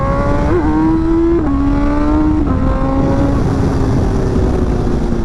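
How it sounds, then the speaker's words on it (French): A 2024 BMW M1000XR 210 hp motorcycle engine drones loudly and continuously, its pitch stepping up through several gear shifts before gradually dropping, with heavy wind noise throughout. "j'espère que vous entendrez bien la moto et que le son sera bon"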